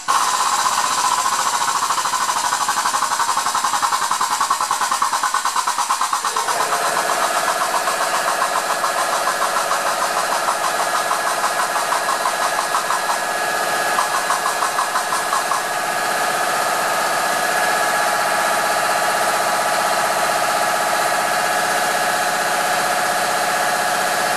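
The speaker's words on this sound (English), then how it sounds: "Now the compressor's stopped." A truck's onboard air compressor runs steadily with a loud, rapid mechanical chatter and engine drone, shifting pitch partway through and continuing without pause, with no talk.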